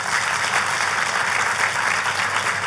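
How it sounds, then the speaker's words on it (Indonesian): Church congregation applauding their pastor, a steady wash of dense clapping that holds at an even level from start to finish with no talk over it. "boleh gak sih kasih tepuk tangan untuk gembala sidang saudara?"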